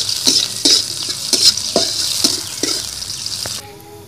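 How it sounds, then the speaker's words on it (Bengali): Chopped onion fries in oil in a pan, a loud close sizzle broken by regular spatula stirs and clinks before the frying suddenly drops away near the end. "পেঁয়াজ কুচি, একটু লাল লাল করে ভেজে নিব পেঁয়াজটা"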